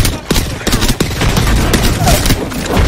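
Rapid bursts of gunfire in a video game, loud and dense, with overlapping shots and booms filling the whole stretch.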